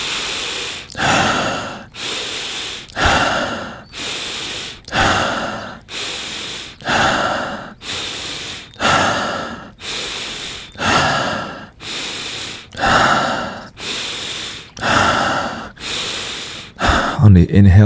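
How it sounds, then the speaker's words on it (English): Slow, deep belly breathing during meditation, heard up close and loud. About eight even cycles of long, airy inhales and exhales follow a steady rhythm with no other sound. "And stomach breathing begin."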